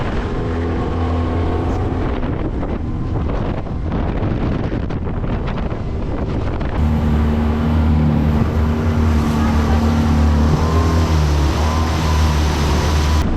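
A small boat tender bouncing along on a moderately bumpy ride, its outboard motor droning loud and close with heavy wind buffeting the microphone, the engine note strengthening partway through.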